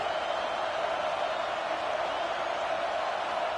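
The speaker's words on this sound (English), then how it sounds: "The roar of the crowd trying to fuel this defense to keep them pinned in their own end." A big crowd roars steadily at a football game, a dense, continuous wash of cheering that holds at an even level throughout without breaks.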